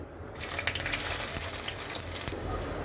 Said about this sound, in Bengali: তেলের মধ্যে আমি দিয়ে দেব একটা শুকনা মরিচ ফোড়ন এর মধ্যে দিয়ে দেব রসুন ফোড়ন